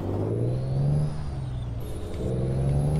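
A heavy haul truck in American Truck Simulator, customized with big torque, rumbles with a low steady engine drone that rises and falls slightly as it pulls, heard close and without talk.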